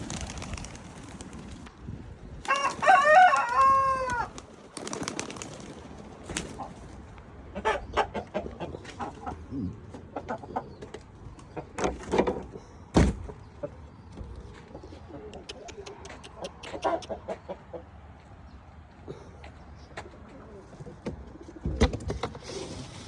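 Pigeons coo and a rooster crows at a Buzovna animal yard, a clear burst of calls early on, then scattered cooing and clucking throughout amid faint background activity.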